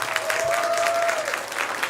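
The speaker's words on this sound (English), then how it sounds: "Let's give another round of applause for all of these graduates." Applause from the audience at a school graduation ceremony in a mosque hall, honouring the graduates: steady, dense clapping that runs throughout, with a faint sustained tone underneath.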